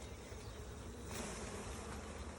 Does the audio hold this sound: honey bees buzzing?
yes